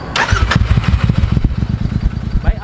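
Royal Enfield Interceptor 650 fitted with a Powerage Performance aftermarket exhaust, dB killers removed, cranking and firing up, then settling into a loud, close, steady burbling idle.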